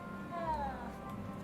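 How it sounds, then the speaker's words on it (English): A cat in Hogwarts Legacy gives a single short, faint meow with a falling pitch, heard briefly over a quiet background. "Pet the kitty."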